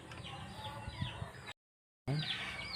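Chickens cluck in scattered bursts, with a rooster-like call mixed in, interrupted by a short silent gap before the clucking resumes.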